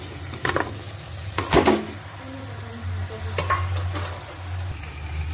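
Macaroni with turmeric being stirred and fried in oil in a pan: a few clattering scrapes of a spoon against the pan over a low, steady sizzle, with no voices.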